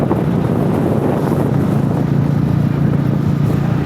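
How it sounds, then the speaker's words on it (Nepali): Strong wind buffets the microphone on a highway motorcycle ride, a loud, constant low roar and rumble filling the whole stretch with no talk. "ल हावाहुरी चलिराखेर चाहिँ"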